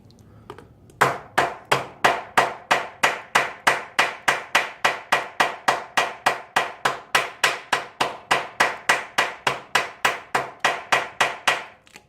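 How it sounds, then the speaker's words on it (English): A hammer taps cardboard against a Honda Magna bobber's motorcycle frame in a steady, even run of about thirty sharp close knocks to form a template. "Piece of cardboard, hammer, just going to put it there."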